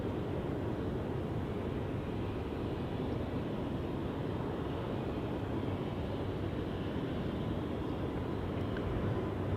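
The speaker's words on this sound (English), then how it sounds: "That's just the 777 spooling up from the center runway." A steady, loud, broadband roar of Boeing 777-300 engines spooling up for takeoff on Schiphol's Polderbaan runway holds without a break, with no voices.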